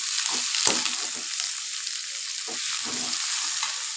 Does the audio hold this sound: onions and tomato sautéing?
yes